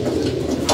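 Pet pigeons, two of them recently sick, give a short, soft, low coo up close, a brief throaty murmur lasting under a second.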